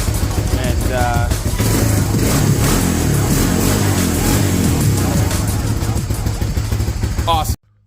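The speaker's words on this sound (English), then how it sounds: "At least the engine's healthy, can be heard running." A Honda Fourtrax quad's engine runs at a steady idle, a close, continuous mechanical rumble with someone talking over it until it cuts off abruptly at the end.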